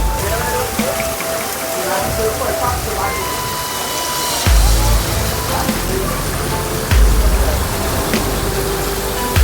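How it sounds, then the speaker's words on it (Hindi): Steady rushing hiss of a waterfall pouring down from above at Sonprayag on the Kedarnath route, much like light rain, with occasional low thumps and faint voices in the background. "ये देखो एकदम ऊपर से झरना चलने लग रहा है"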